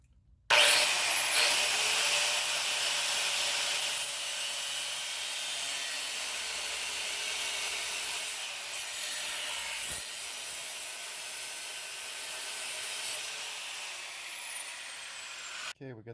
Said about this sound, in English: Today I'm going to get this exhaust bolt right there cut back